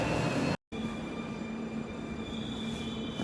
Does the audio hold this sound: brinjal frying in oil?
no